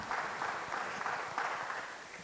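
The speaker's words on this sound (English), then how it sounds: "Can we applaud her for that response?" Audience applause at a public service day event, a sustained patter of many hands clapping at moderate distance, steady throughout with slight surges.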